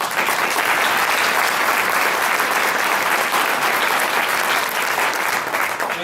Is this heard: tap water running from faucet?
no